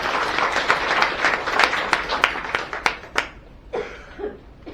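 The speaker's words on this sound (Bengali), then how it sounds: "ম্যাডামের জন্য একবার জোরে হাততালি দিই।" An audience bursts into loud, dense applause for a woman guest at a seminar, the clapping gradually thinning into scattered individual claps before fading out.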